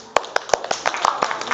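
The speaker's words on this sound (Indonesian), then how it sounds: "Beri tepuk tangan buat Kaira." A classroom of students claps in a short rhythmic burst of sharp hand claps, close and lively, rising and then thinning out.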